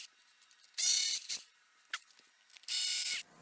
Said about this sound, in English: First step, remove the seat. I'm going to use a 10mm socket.